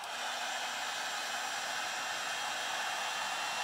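A hair dryer runs steadily at close range, blowing on a craft piece with a constant, even whoosh from start to finish.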